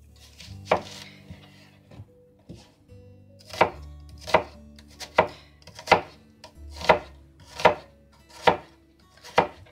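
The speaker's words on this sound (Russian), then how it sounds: "Как правильно нарезать лук?" A knife chops an onion on a board in a steady run of about a dozen sharp, close knocks, speeding up into an even rhythm after a slower start, with no talking.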